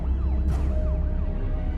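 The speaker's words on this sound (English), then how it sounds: "And then a siren howled somewhere nearby." A siren howls nearby, its wailing tone rising and falling continuously over a loud rumbling background, with no one talking.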